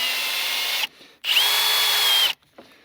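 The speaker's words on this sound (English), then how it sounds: "Wonder if I gotta drill that out first." A handheld power drill whines in two close, loud bursts, the second longer with a steady high pitch, separated and followed by brief quiet gaps.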